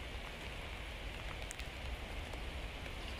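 Steady rain falls on pine and spruce trees in May, a soft continuous hiss of drops with no voices.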